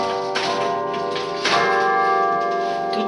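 A carillon in Haute-Savoie rings: sustained, overlapping bell tones with new strikes layered over a long ringing decay, loud and resonant.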